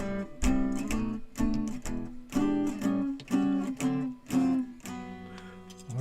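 A Gibson Howard Roberts hollow-body electric guitar played unplugged gives a quiet, thin jazz line of plucked notes and chords in uneven phrases, close and alone.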